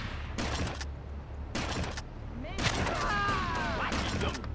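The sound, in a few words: kick and gunshot in GTA Vice City Stories video game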